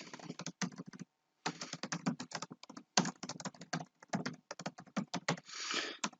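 Fast, close typing on a computer keyboard: dense bursts of crisp key clicks with one short pause, ending in a longer smeared rattle of keys.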